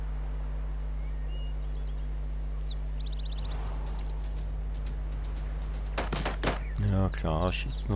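Unit gunfire in Civilization VI, a rapid series of sharp shots arriving late after a stretch of steady game ambience with faint chirps, a voice talking over parts of it.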